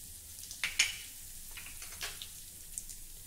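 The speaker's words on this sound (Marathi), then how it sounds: "तेल गरम झालं की त्यामध्ये थोडे जिऱ्याचे दाणे घालूया।" Cumin seeds and asafoetida sizzle in hot oil in a kadhai, heard as a soft, steady crackle with a few sharp pops scattered through it, fairly faint and close.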